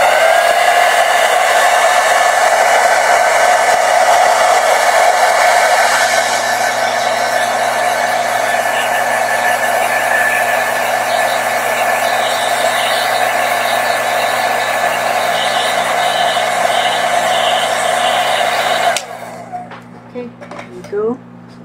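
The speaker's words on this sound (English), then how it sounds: "So I'll just quickly dry this so that it won't get" A hair dryer blows steadily and loudly on a wet watercolor painting, a constant whirring roar lasting about nineteen seconds before it cuts off and leaves quieter room sounds.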